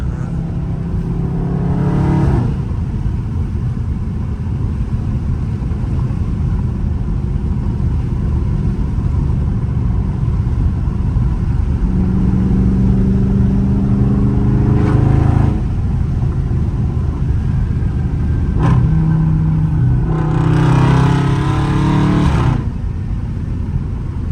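A Dodge Scatpack's engine revs hard while driving, three loud throttle bursts rising over a steady close engine drone, with no talking.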